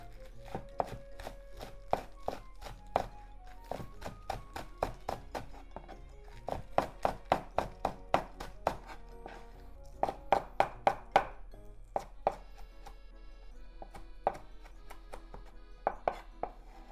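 A knife slicing green onions into thin slices on a cutting board, a quick run of crisp, regular thunks in bursts, close and clear with no talking.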